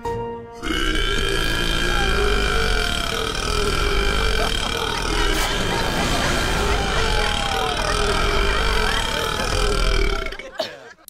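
A long, loud, drawn-out burp in a burping contest, a single sustained guttural belch lasting around ten seconds, close and dominating the sound.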